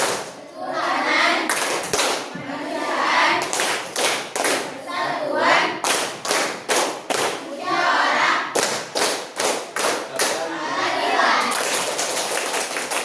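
A classroom group at SMKN 3 Banda Aceh performs the Tepuk Pancasila, loud sharp claps in patterned bursts and quick runs, with voices chanting along between the beats.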